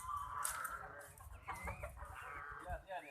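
Chickens cluck and squawk close by on a farm that also keeps ducks and geese, with some background chatter and general barnyard noise mixed in.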